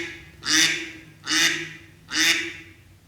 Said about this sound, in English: the duck sound is playing.